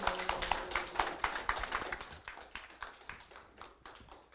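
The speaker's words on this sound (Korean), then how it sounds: "큰 박수로 맞이해 주세요" An audience at a lecture on the history of Korea's prosecution claps to welcome lawyer Jeong Cheol-seung, a soft, steady patter of many hands that gradually thins out.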